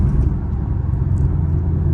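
A Chevrolet Camaro SS engine burbles during a night drive, a loud, close, continuous low rumble from inside the car with no talking.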